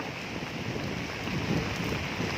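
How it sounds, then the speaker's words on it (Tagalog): Heavy rain pours down steadily in a broadband wash of noise, close and constant for the whole stretch, with slight swells in intensity and no voices. "saka naman grabing lakas ng ulan"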